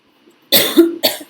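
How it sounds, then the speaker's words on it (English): A person breaks into a short coughing bout, two or three harsh close coughs in quick succession after a moment of silence, with a rough voiced edge between them. "Sorry, I had my cough bout."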